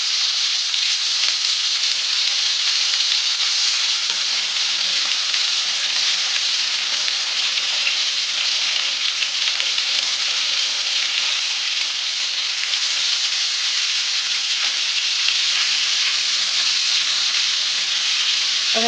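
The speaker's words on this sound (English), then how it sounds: "I am going to flip my pork chops now" Pork chops sizzle in a frying pan after being flipped, giving a loud, steady hiss that holds evenly throughout with no voices.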